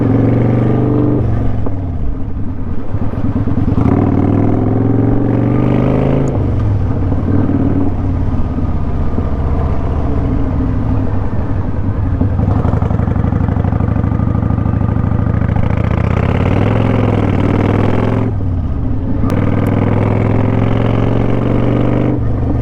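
A motorcycle engine runs steadily and loudly throughout a road ride heading toward the freeway, with its low drone rising and falling as the rider accelerates and eases off, and no voices are heard.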